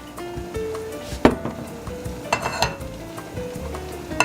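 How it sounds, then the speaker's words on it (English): Hot oil sizzles steadily in a pan as quail eggs fry, with a continuous crackling hiss broken by a few sharper pops and spatters close by. "Make sure the oil is nice and hot, otherwise the egg will stick"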